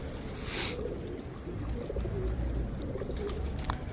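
A red-winged bango pigeon cooing, a soft low call close by over a rumbling outdoor background with a brief hiss early on.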